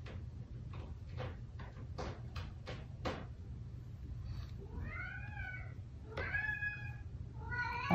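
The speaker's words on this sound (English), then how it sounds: "My cat wants me to play with them." A house cat meows several times close by, rising and falling cries following a run of quick soft knocks and taps, with a low steady hum underneath and no talking.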